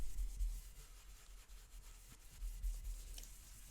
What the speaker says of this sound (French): Donc je passe vraiment un léger très léger coup de brosse estompe.